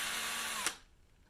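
A power drill whines at high speed driving a 1 5/8-inch deck screw into a post vise mount, then cuts off abruptly with a click, leaving near silence.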